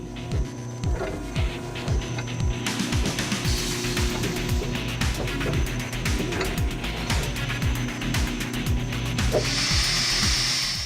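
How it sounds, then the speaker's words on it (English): Edwards 40-ton shop press straightening a bent steel bumper end cap, giving a rhythmic series of ratcheting clicks and pumping knocks over a steady low mechanical hum, close and moderately loud. "using our Edwards 40-ton shop press and a little bit of love, comes out pretty clean"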